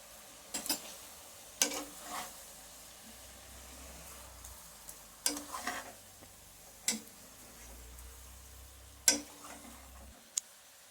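Chicken coated in chili powder is stirred in a pan. Several sharp spatula taps and scrapes land at irregular intervals over a faint, quiet frying hiss, with no voices.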